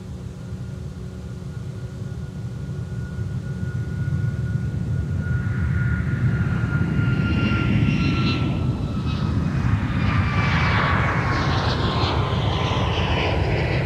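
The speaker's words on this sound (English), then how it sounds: "Iceland Air 656 now departing to Reykjavik, Iceland with the 737 MAX 8" Icelandair Boeing 737 MAX 8 jet taking off from an airport runway bound for Reykjavik, a steady engine roar building after a few seconds into a loud, rising whine that holds to the end, with no talk.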